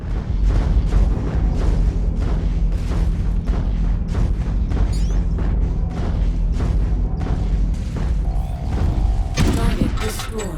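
Explosions of destroyed mech targets in MechWarrior 5 combat: repeated heavy booms and thuds rapidly overlapping with weapon fire, loud and dense throughout, ending in a sharper burst of crackling blasts.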